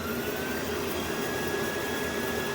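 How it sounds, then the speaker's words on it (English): A steady, even whir of a Rainbow vacuum cleaner in vacuum mode with a faint high whine on top, running continuously without change. "Well, in vacuum mode, it's a little quieter."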